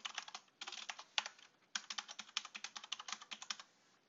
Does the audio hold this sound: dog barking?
no